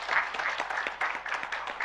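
A religious gathering's audience claps for orphans at a sermon event, a short burst of dense, steady clapping with slight pulsing swells, fairly close and with no voice over it.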